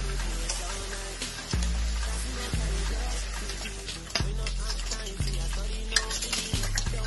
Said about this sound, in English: a little sizzle is starting to form